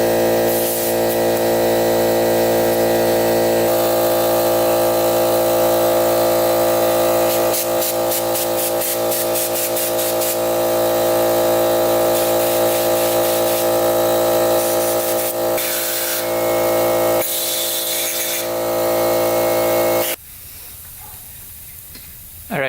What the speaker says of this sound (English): Let's take the air compressor and go through it one more time.